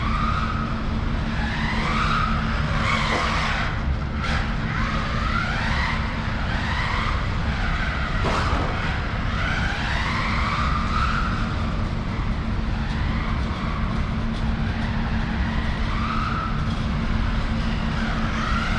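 An SG 1/16 brushless RC car runs indoors. Its high motor whine rises and falls constantly while the tires squeal and skid in repeated bursts, close and steady, with no talking.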